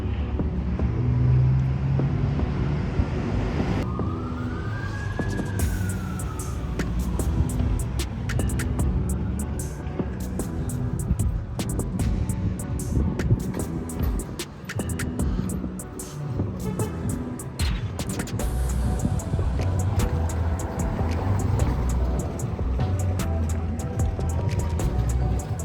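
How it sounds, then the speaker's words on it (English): Evening street traffic in Quito near Plaza Foch, a continuous rumble of passing vehicles with wind buffeting the microphone and scattered clicks and knocks throughout. "Evening traffic."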